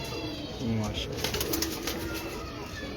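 Breeder pigeons coo in low, rolling calls on a Lahore rooftop while people talk nearby, the birds' murmuring continuous beneath the voices throughout.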